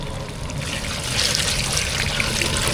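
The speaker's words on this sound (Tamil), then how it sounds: "புளி தண்ணியில் வந்து உப்பு மஞ்சத்தூள் ரெண்டு சேர்த்து ஒன்றா கலந்துட்டோம் இப்போ இதை சேர்த்துக்கலாம்" Tamarind water mixed with salt and turmeric trickles and pours into a pot of rasam, a soft continuous splashing that grows slightly fuller partway through.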